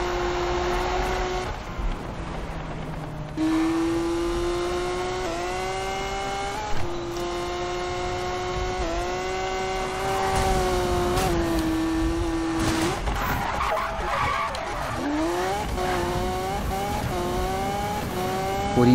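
Cars racing in Need for Speed 2015, engines revving and shifting through gears with rising, dropping pitch, a steady loud roar with brief tire squeal toward the end, no talking.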